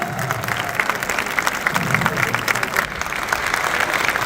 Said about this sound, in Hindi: तो जोरदार तालियां हो जाए आचार्य मनीष जी के लिए